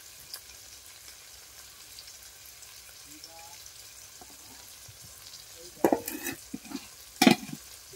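Shrimp fry in a pan with a low, steady sizzle, then stirring near the end brings a few loud scraping, clattering bursts close by; no talking is heard.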